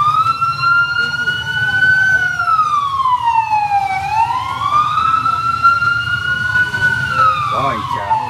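Ambulance siren in a motorcade escorting the Indonesian President's armored Mercedes in Vietnam: a loud, close wail sweeping slowly up and down, over the steady rumble of vehicle engines.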